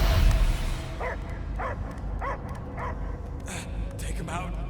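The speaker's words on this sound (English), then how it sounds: "I hear only barking." Dog barking and whimpering in the Guardians of the Galaxy video game, a run of short repeated yips at an even pace, heard under game dialogue and a low ambient rumble.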